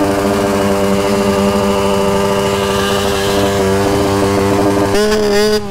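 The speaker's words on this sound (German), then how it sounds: "Ich darf jetzt noch Husqvarna TE 125 fahren, also das Bike, was ich mir eigentlich holen wollte. 125 Kubik, Zweitakt" A Husqvarna TE 125 two-stroke 125 cc motorcycle engine runs loud and close with a buzzing, steady drone, then revs sharply near the end.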